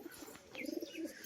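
Pigeons kept for sale cooing softly, a few low throaty coos in a short burst close by, with light chirps and no talk.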